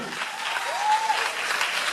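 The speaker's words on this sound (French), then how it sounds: "Applaudissez pour vous." A comedy festival audience breaks into steady, moderately loud applause that fills the whole short stretch, with a brief voice or whoop cutting through the clapping.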